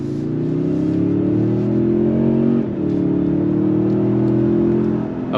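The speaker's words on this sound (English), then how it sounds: "On throttle, here we go." The engine of a 2022 Toyota Tundra Capstone pickup hums and rises steadily under throttle as it accelerates, a loud, smooth drone heard from inside the cabin.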